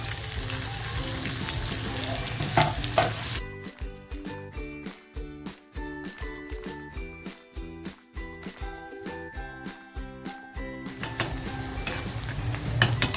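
Chopped onion dropped into hot oil with garlic and chilli for dhaba-style dal tadka sizzles loudly, then gets stirred with rhythmic scraping strokes against the pan, close and continuous without speech.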